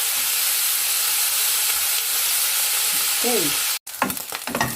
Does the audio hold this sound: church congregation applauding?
no